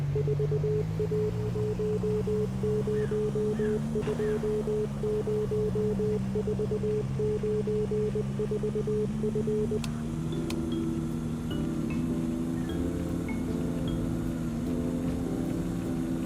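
A steady beeping tone pulses in rapid Morse code patterns inside the video game Easy Delivery Co., running over a droning vehicle engine hum before stopping partway through.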